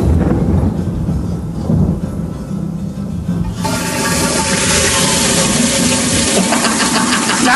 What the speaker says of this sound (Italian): inizia con un rumore di tuoni